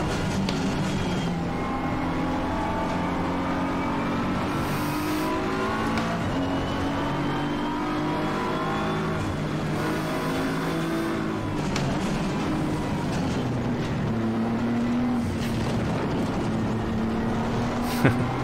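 Race cars in Assetto Corsa Competizione, a continuous loud drone of several engines revving and shifting, pitches rising and falling as cars pass and accelerate, steady throughout with no speech.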